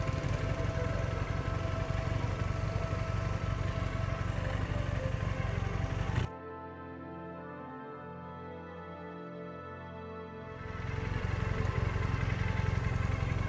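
A motorcycle engine idles nearby with a steady low chugging drone, cutting out abruptly midway, leaving a quieter hum with faint tonal sounds, before the idle resumes for the final seconds.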